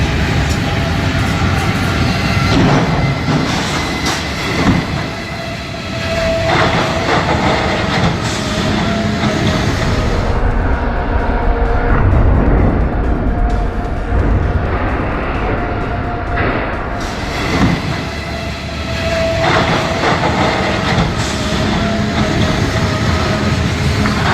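A train rumbles loudly toward and through a railway crossing where a truck is stuck, with continuous heavy rolling rail noise and wheel clatter, no voices.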